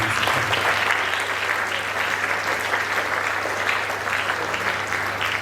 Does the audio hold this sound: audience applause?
yes